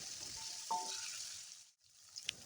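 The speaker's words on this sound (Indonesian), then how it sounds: "masukkan tahu yang tadi sudah aku potong dadu" Diced tofu stir-fried in a pan sizzles with a steady hiss, broken by a brief clink of a utensil and a short lull, with no talking.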